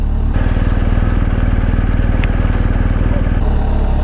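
A motorcycle rides through New York toward the Holland Tunnel, its engine a loud, close, rapid pulsing putter that stays steady over the whole stretch.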